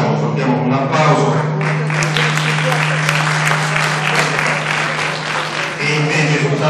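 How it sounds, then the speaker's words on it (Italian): Audience applause at a municipal assembly about a hospital, sustained clapping from a crowd over a steady low electrical hum, fading near the end as a voice returns. "Lo portiamo con un applauso."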